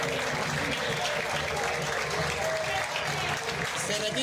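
Football crowd at an Argentine Torneo Federal A match between El Linqueño and Sportivo Belgrano applauding a substituted player leaving the pitch, steady dense clapping under crowd noise and commentary throughout.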